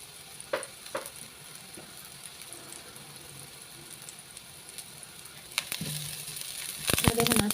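Vegetables fry in a pan with a low steady sizzle, broken by occasional clinks and scrapes of stirring that grow louder and busier toward the end.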